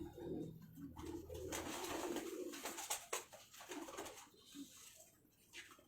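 Pigeons coo in soft, low rolling bursts, fairly close, amid rustling and light background noise with no talk.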